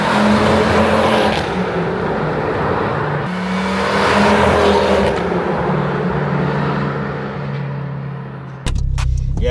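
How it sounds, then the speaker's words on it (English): A Ford Focus ST engine (265 brake horsepower) drones steadily up close, rising and falling slightly in pitch, then shifts abruptly near the end with a few sharp clicks. "I'm just about to drive the Focus ST 265 brake horsepower"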